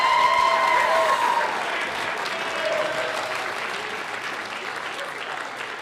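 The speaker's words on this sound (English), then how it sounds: "one more round of applause" Applause fills a high school band spring concert at Springdale High School, a thick, even patter of many hands clapping, strongest at first and gradually thinning across six seconds, with faint murmurs in the crowd.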